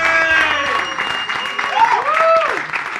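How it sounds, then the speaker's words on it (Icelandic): Applause fills a basketball arena as the best young players of the Icelandic league are honoured. The crowd clapping is dense and lively, with drums and tonal cheers or horn-like calls rising over it. "Emilía Ósk Gunnarsdóttir, gefið gott klapp."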